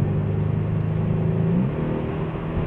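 A 2017 Mercedes-AMG C63 S Coupe on a lap of Road America lets out a loud, steady engine drone from inside the cabin, the pitch sweeping up briefly before settling back.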